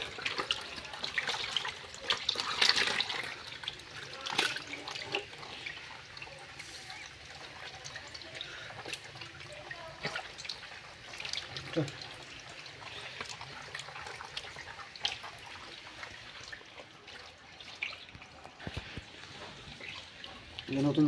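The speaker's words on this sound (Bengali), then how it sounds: "এবার সব মাছগুলোকে এবার নতুন জল দিয়ে দেবো এই মাছে।" Fresh water pours and trickles continuously into a koi and magur fish tank, a soft steady splash at moderate distance, with faint speech now and then.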